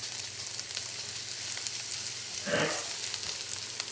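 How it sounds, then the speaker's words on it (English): Oyster mushrooms fry in butter in a pan, a quiet steady sizzle with a brief louder scrape of stirring in the middle, no talking. "I'm going to stir them in, get them coated up a little bit with some of this good butter"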